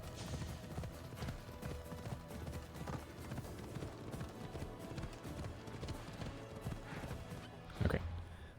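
Horse galloping in the Assassin's Creed video game, a steady rhythmic clip-clop of hooves running continuously and fairly close, with a brief louder burst near the end and no talking.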